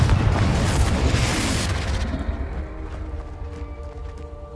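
Confringo blasting spell explosion in Hogwarts Legacy: a loud, deep boom with a rumbling blast tail that gradually decays, leaving low residual crackles and rumble.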